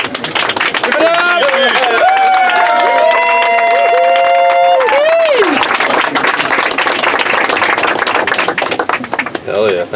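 Crowd at the first day of passenger service for a G Class tram cheers and applauds, a dense wash of clapping under whoops and overlapping shouting voices, with a long sustained tone running through the middle.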